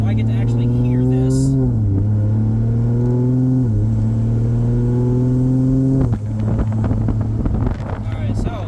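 A Toyota 2JZ engine with a new manifold in an S14 car running with an 8HP70 transmission, a loud steady drone that shifts pitch several times as it revs and changes gear, with wind noise over the mic.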